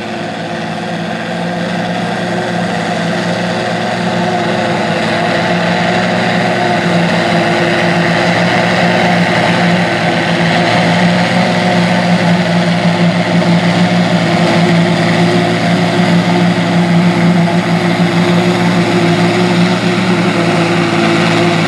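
A forage harvester's engine runs steadily and loudly throughout while chopping corn, a constant low droning hum with a harmonic whine, no voices.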